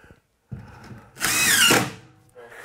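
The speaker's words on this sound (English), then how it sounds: "You might notice I'm using a special drill bit here. Cute little dimpler made for drywall screws." An impact driver fitted with a drywall dimpler bit drives a screw, a short whirring burst lasting about half a second after a few quiet knocks and handling sounds, close and loud.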